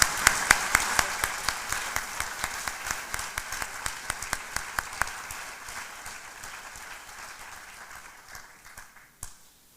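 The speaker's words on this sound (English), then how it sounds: "Everybody join me in a round of applause." A round of applause from an audience at the Hearts & Heroes 2023 celebration: steady, dense clapping with a few sharper individual claps, fading gradually toward the end.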